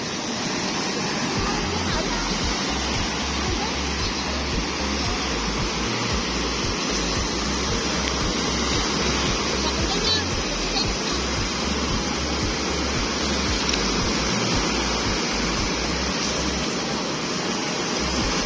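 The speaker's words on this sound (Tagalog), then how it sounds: "bis buhay ang maglalako kasi malalaki talagang alon" Big waves of a rough sea crash and churn as a steady, loud roar of surf that fills the whole stretch without pause, with no voices over it.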